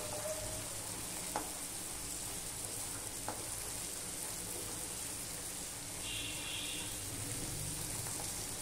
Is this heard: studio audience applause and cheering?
no